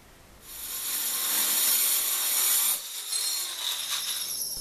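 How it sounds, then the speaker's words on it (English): A belt sander grinds convex surfaces onto aluminium plates, a loud steady abrasive whine that cuts out briefly near the end before resuming. "I then used the belt sander to get the convex surfaces."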